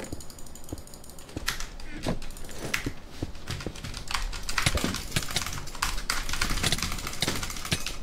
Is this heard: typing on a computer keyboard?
yes